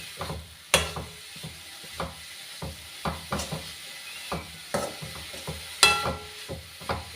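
Pumpkin leaf thoran stirred in a frying pan, with scattered scraping strokes and soft clinks of the spoon over a faint sizzle, close and fairly quiet.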